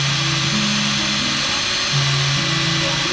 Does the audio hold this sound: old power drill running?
yes